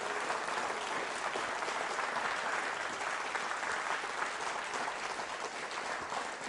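At a school quiz show, a hall full of students and guests claps steadily for a correct answer, a sustained, even wash of many hands heard from a distance and fairly faint.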